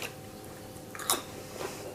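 Crunchy zucchini flax crackers are chewed close up, with a few crisp bites and crunches over soft mouth noise, and one sharp crunch near the middle.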